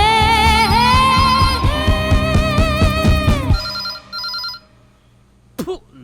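A phone rings in a Kannada film, with a loud melodic electronic ringtone over background music, then a few faint tones as the music fades out.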